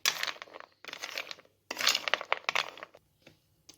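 Almonds tossed with cocoa powder in a bowl give off bursts of rattling, clinking scrapes that come in several rough strokes with brief pauses between, close by and fairly quiet.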